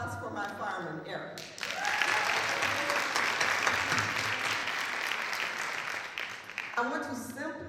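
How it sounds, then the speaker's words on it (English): A room full of people applauds loudly for a fireman named Ariel, a sustained burst of dense clapping that swells in, holds steady for several seconds, then breaks off, with talk on either side. "can I have a round of applause for my fireman, Ariel?"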